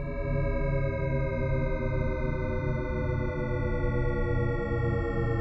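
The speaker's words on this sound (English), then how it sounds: "When the transition between tones is continuous, it's called a SHEPARD-RISSET GLISSANDO" Descending Shepard-Risset glissando, a dense stack of smooth, layered synthetic tones gliding continuously and seeming to fall endlessly, steady in loudness with no speech.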